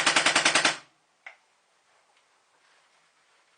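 A Luxe paintball marker fitted with a different bolt and cam fires a rapid string of about eight loud, sharp pops, then near silence broken by one faint click and a soft tap at the end.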